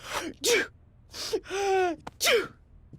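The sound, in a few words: sneeze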